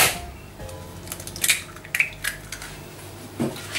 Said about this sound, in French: je vais mélanger mes œufs avec le sucre